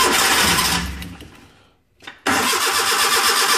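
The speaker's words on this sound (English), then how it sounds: "It might crank up a little bit because I took the fuel pump off" A 1988 Suzuki Carry DB71T engine runs, winds down to silence, then cranks briefly and fires back up into a steady, loud, close idle.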